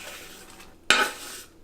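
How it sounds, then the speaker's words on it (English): Shallots are scraped into a pan of cold vegetable oil for crispy fried shallots, a single sharp clatter and scrape of utensil on pan over quiet background, no voices. "And then scrape in the shallots."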